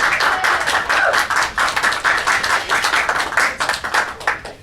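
A crowd at a press conference applauding steadily, many hands clapping in a dense, sustained wash that stays loud throughout with no voices over it.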